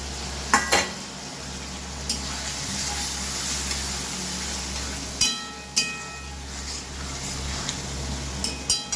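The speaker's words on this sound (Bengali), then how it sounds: "ভালো করে কষে নেব।" Tomato and green chili sautéing in a pan for paneer curry: a continuous sizzle with intermittent sharp clinks and scrapes of a spatula against the pan, close and fairly loud, no voices.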